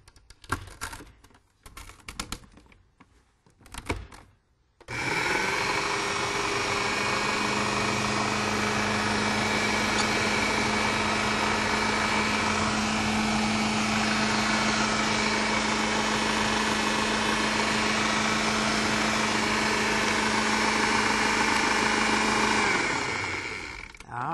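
A kitchen mixer blends silken carob pie filling, switching on after a few seconds of clattering and then running as a loud, steady whirring drone that winds down near the end.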